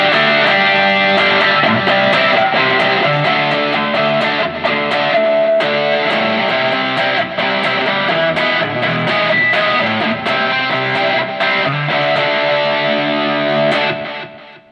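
An electric guitar played through a Positive Grid Spark Mini amp with a distortion and delay preset rings out as a loud, continuous stream of driven notes and chords for about fifteen seconds, with no talking over it.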